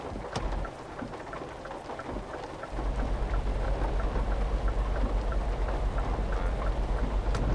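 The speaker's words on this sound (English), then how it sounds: "I misjudged how quick it is to stop in this rain." Steady rain pours down during a thunderstorm in Euro Truck Simulator 2, with a deep rumble of thunder rolling in partway through and the downpour continuing as a dense, constant hiss with no talk.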